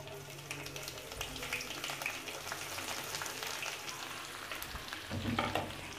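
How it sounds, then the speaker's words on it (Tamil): Mustard seeds crackling and spluttering in hot oil, a dense continuous sizzle with scattered sharp pops, fairly close and steady throughout. "இப்போ கடுகு பொரிஞ்சு வருது"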